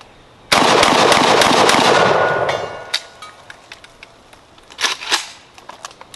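A JTS AK12 shotgun loaded with Federal Red Box 8-shot shells, firing its first rounds through the gun, lets off a loud, rapid burst of closely spaced blasts. A few scattered clicks and bumps follow.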